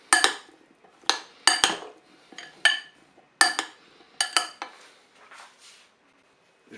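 A utensil mixes potatoes with oil in a salad bowl, giving a series of sharp, irregular clinks and scrapes against the bowl. The clinks come close and clear, then grow softer toward the end, with no talk.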